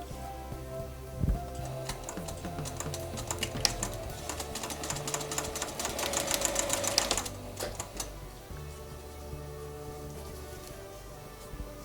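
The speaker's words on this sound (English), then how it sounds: "I start with 2 squares, stitch them together." A sewing machine stitching quilt squares together runs in a fast, close, rhythmic mechanical patter for several seconds, then stops, leaving quieter handling noise, with no voice.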